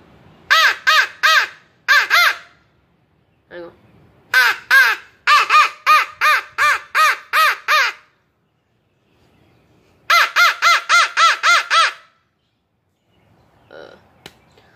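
A person imitating a fighting crow's harsh caws with a turkey call, loud close bursts of rapid repeated notes in three clusters separated by pauses, with faint sounds between.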